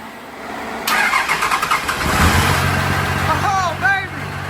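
A 1978 Chevy K20 truck engine cranks and catches, then settles into a rough, rumbling idle, with people talking over it.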